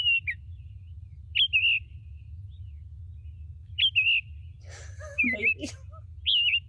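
A songbird whose song resembles an American robin's repeats short, clear, warbling whistled phrases every second or two over a low, steady background rumble. A person briefly speaks midway.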